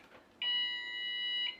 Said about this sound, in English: So let's show us how you arm the alarm now.